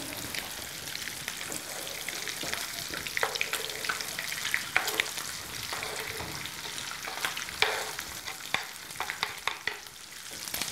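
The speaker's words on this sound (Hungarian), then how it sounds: "És kavargatjuk, hogy oda ne égjen." Onion frying with rendered bacon in a pan gives a steady, close sizzle, with frequent scraping and clinking as the mixture is stirred throughout.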